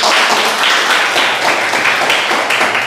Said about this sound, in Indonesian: Ayo, kasih aplaus dulu.